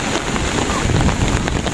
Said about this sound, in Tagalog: Bumabagyo. Umuulan.